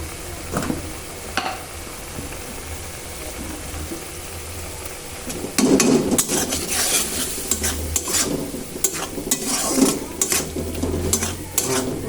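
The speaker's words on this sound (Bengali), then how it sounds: "এবার মশলাটা ভালো করে ভাজা ভাজা হইলে আমি দিয়ে দেব" Ground onion, chili paste and spices are stir-fried in a pan, with a soft sizzle and then close, repeated scraping of a spatula against the pan, no talking.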